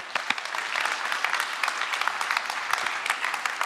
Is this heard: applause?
yes